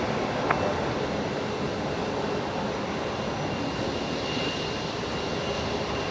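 Jetstar jet airliner taxiing at Brisbane Airport, a steady, loud broadband engine roar and whine that holds evenly throughout, heard from outside without talk.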